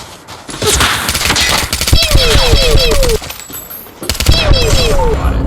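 Rapid bursts of gunfire from Call of Duty Mobile, loud and dense, with an excited voice shouting over the shots.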